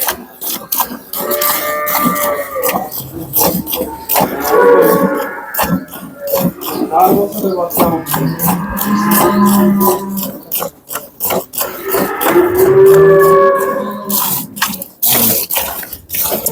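Cattle at a Bangladeshi cattle farm selling cows, moo loudly and repeatedly across the clip, with long drawn-out calls from several animals close to the microphone and no talk over them.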